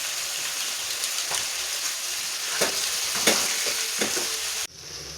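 Onions and chicken with turmeric and chilli powder being stirred in a hot pan for a quick onion chicken fry, with steady sizzling and a few scraping spoon strokes, close and continuous before cutting off near the end.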